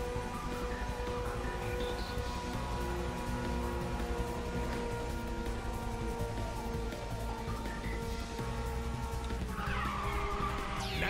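Race car engine in Ridge Racer 6 at very high speed, a steady loud drone with layered harmonic tones running throughout, and a burst of tire skidding near the end.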